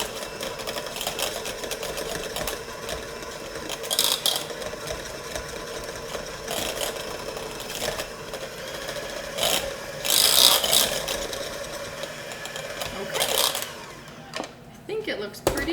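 Cupcake batter being blended with an electric mixer, a steady whirring drone running for the full stretch, moderately loud and close, with occasional scraping knocks.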